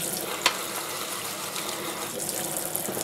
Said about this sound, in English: We're just rinsing the main stuff off, rinsing the wee bucket out,